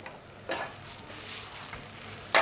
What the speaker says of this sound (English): It's frying nicely, not too hot, but just sizzling nicely.